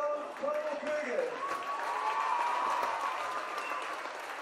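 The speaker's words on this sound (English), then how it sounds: "Can we get a big round of applause for our runners-up" Steady applause from a crowd for the runners-up Carnival Cougars at an under-18 girls' rugby league grand final, sustained throughout with cheering voices and talk mixed in.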